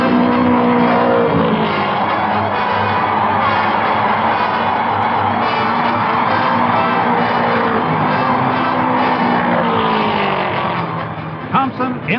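Race cars at the 1960 Indianapolis 500 roar past continuously on the oval, a dense loud engine drone with a distant crowd and a voice talking over it.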